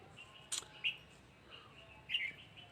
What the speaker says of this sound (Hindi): चिड़ियों की आवाज़ आ रही?